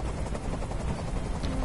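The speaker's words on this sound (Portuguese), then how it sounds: "Esse helicóptero tem que sair daqui agora." Helicopter hovering in the video game Detroit: Become Human, a dense steady rotor and engine roar filling the short moment at constant loudness.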